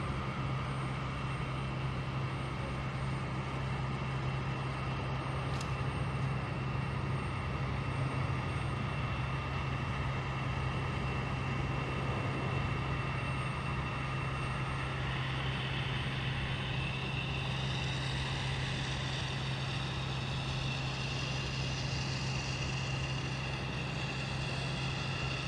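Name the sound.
Delta Airbus A321 jet airliner at Boston Logan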